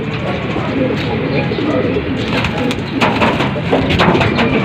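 Racing pigeons arriving at a loft after a race, with close, rhythmic soft cooing repeating throughout and a constant rumbling background, while a person talks.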